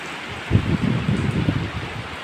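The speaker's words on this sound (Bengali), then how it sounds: "প্রচুর বৃষ্টি পড়ছে" Heavy rain keeps up a steady hiss while low gusty rumbles, like wind buffeting a microphone, swell and fade through the middle.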